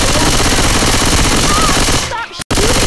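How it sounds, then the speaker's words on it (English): Gunfire in the zombie shooter Left 4 Dead 2 on the rainy Milltown map: loud, rapid automatic bursts, very close and dense, cutting off abruptly near the end. "Stop shooting me!"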